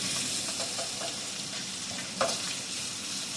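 Cabbage and other vegetables simmer in a skillet, giving a soft, continuous sizzling bubble with a few faint pops, quiet and steady throughout.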